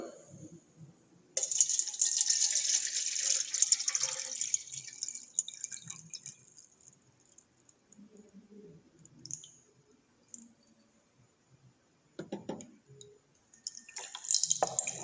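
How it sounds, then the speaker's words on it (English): Water pours into a eureka can from a thin, hissing, splashy stream that runs for a few seconds and then fades into scattered drips and clinks, followed by shorter splashes near the end. "So I'm going to add some water."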